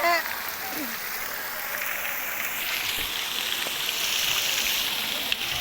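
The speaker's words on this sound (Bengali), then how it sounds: "ঝর্ণার জল পড়ছে" Water from a fountain falls steadily in a park at the Taj Mahal spot, a continuous broadband splashing wash heard fairly close, with faint voices in the background.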